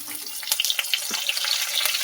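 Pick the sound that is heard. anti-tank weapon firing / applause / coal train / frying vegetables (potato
frying vegetables (potato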